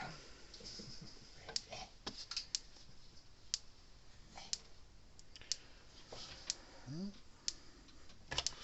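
A Gallagher Wrangler electric fence energizer clicks in sharp, quick, regular ticks over faint background noise, with brief quiet voices in between.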